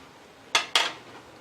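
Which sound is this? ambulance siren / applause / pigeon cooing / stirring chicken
stirring chicken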